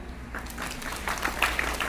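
Brief, scattered clapping from a small group at a school Handwashing Day event, rising slightly toward the end over a steady room hum.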